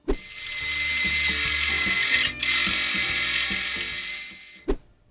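A drill grinds steadily through steel plate for several seconds with a harsh, high whine and a rattling, uneven undertone, pausing briefly midway, close by.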